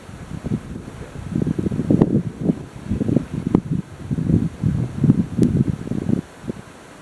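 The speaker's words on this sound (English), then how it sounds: "The wind is definitely changing." Gusty wind buffets the microphone outdoors at a long-range shooting position, low rumbling bursts that rise and fall irregularly and stay loud almost throughout.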